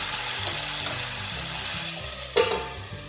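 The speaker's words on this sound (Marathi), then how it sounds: "आपल्याला मध्ये मध्ये थोडंसं मिक्स करत राहायचं आहे आणि एकदम कमी फ्लेमवरती छान वाफवून घ्यायचे आहे।" Eggplant pieces steaming in a pan over a very low flame, stirred with a soft steady scrape and faint sizzle, with one brief louder clatter near the end.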